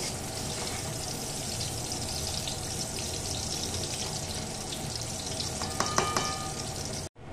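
Kachki fish fry in a small amount of oil in a wok, giving a loud, dense, continuous sizzle with occasional stirring clinks toward the end before it cuts off.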